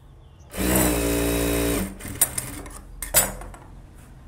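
A sewing machine runs a steady burst of stitching for about a second and a half on a blouse joint, then stops, followed by a few light clicks and handling knocks close by.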